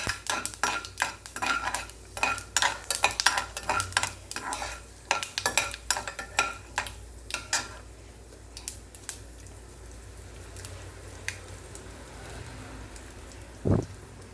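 Urad dal stirred while it fries in hot oil for tempering for mor kuzhambu: rapid irregular clinks and scrapes of a spoon against the pan over a steady sizzle, thinning to sizzling alone, with a brief thud near the end.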